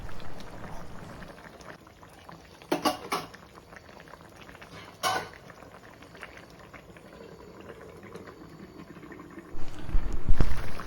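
Meal maker gravy bubbling in a pot, a low soft simmer punctuated by a few sharp lid or utensil clatters, then louder bubbling and movement toward the end, no talking.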